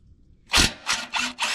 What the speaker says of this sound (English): we got the 12 mil ratcheting wrench on there